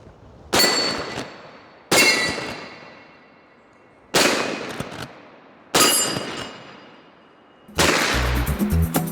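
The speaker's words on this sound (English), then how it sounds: "let's put some rounds down range" Five loud, sharp rifle shots from a Marlin 1894 lever-action in .44 Magnum, spaced about every two seconds outdoors, each with a ringing decay and a rattle of the action after the last.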